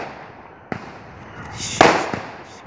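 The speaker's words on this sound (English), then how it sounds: "can you guys hear all of the damn fireworks going off?" Outdoor fireworks go off in a few sharp bangs, one early, a louder crack with a crackling tail near the middle and another soon after, over a low background hiss, heard from a moderate distance.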